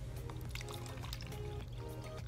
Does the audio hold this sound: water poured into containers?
yes